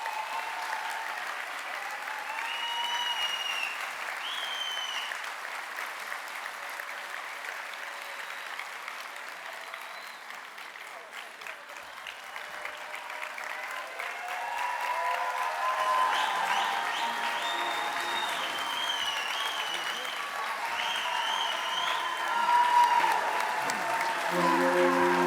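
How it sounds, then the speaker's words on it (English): A graduation ceremony crowd gives the graduates sustained applause, a dense, steady wash of clapping that swells louder in the second half and carries on without a break; no one speaks. "Let's give them another round of applause"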